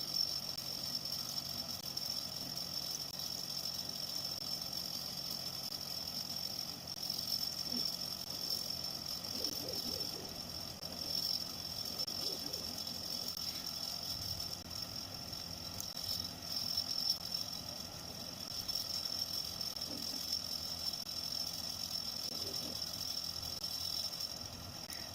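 A magnet motor rotor spins with a continuous close hum and a thin high whine that holds throughout at fairly steady loudness, with only faint background noise.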